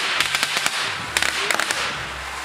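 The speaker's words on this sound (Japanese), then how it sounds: "爆竹。" Firecrackers set off outdoors in the mountains to scare away bears, a quick run of sharp loud pops and cracks in two bursts, with a short gap between them.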